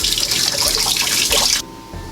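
Shower water running steadily as a broad hiss, close and fairly loud, then cutting off abruptly near the end, leaving a quieter hum behind.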